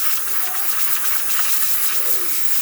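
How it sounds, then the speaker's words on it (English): Steam wand on a repaired Quick Mill espresso machine hissing steadily and forcefully, a continuous loud rush of steam with faint rattling and no talk. "As you can see, steaming perfectly fine, very powerful,"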